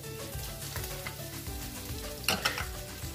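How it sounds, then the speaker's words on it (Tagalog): Garlic and onion sauté in oil in a pan, a steady close sizzle with spoon scrapes and a brief louder clatter near the end. "igisa natin yung ating bawang. Ang ating sibuyas."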